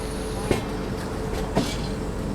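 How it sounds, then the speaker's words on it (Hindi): The Magadh Express pulls out of New Delhi station, a continuous rumble of rolling wagons with three sharp clacks of wheels crossing rail joints spaced about a second apart, heard at moderate distance. "देखिए वो मगध एक्सप्रेस डिपार्ट करी है"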